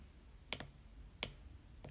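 Fingers tapping on an iPad touchscreen: three soft, sharp taps spaced under a second apart, faint and close in an otherwise quiet room.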